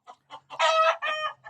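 Chickens on a provincial farm cluck in short bursts, broken by a longer drawn-out squawk, close and clear with no talking.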